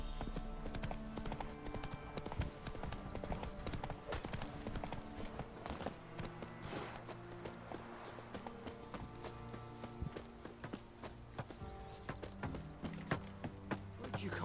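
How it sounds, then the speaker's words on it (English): Hooves of a horse in the video game The Witcher 3 clop steadily along a road in the Velen region, a close, rhythmic run of hoofbeats over faint game ambience and music, with no talk. "Whoa there, Roach"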